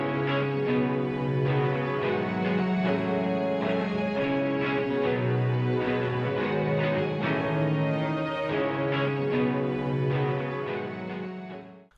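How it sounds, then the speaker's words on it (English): Layered sustained strings play a slow, swelling chord progression, full and steady before fading at the end. "I arranged some strings,"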